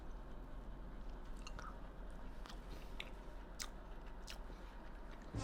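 Someone chews a bite of homemade lemon pound cake up close, producing soft, moist squishing and faint crunchy bites that repeat steadily over a low, constant background hum, with no talking.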